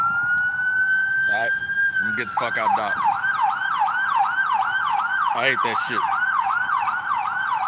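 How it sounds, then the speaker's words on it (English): An ambulance siren sweeps past nearby, starting as a steady high wail before switching to a rapid rising-and-falling yelp that repeats loudly, with someone talking over it. "there's the ambulance coming by"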